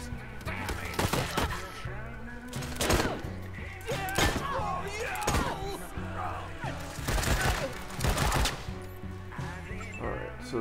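Gunfire and explosions in the turn-based squad combat game Wasteland 3, with bursts of shots and heavy blasts recurring every second or two over a steady game soundtrack, while someone talks throughout.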